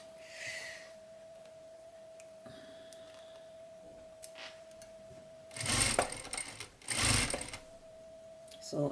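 A sewing machine stitching fabric for a rolltop backpack, with short bursts of rapid mechanical stitching and a brief back stitch near the end, close and clear with a steady hum between runs and no talking.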